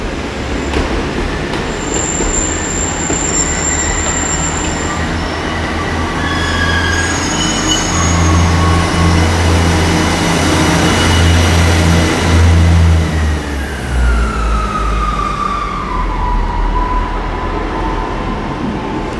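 A Class 150 diesel multiple unit at Exeter St David's station rumbles steadily through the platform on a Tuesday evening, with loud low engine drone, rising and falling wheel squeal, and a fading run-down toward the end.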